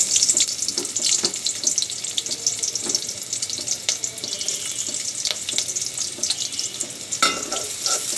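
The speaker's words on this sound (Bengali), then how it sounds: "তেল গরম হয়ে গেছে, পেঁয়াজ দিয়ে দিব।" Onions fry in hot oil in an iron wok, a busy crackling sizzle with frequent sharp pops and spatters throughout, fairly close and moderately loud.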